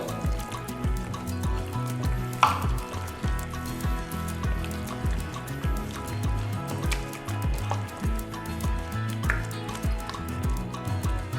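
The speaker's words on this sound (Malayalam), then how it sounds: "ചിക്കൻ ഇട്ടതിന് ശേഷം നമുക്കിത് നന്നായിട്ട് വീണ്ടും മിക്സ് ചെയ്ത് കൊടുക്കാം" Raw chicken pieces squelch and slosh as they are worked into a thick marinade for grilled Ifa chicken. The squishing is wet and continuous, close up, with no talking.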